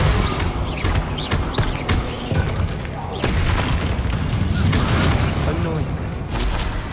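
A Bombarda spell blast in Hogwarts Legacy amid dense game combat: repeated loud booms and crashes layered over continuous action noise, with clipped voice callouts mixed in.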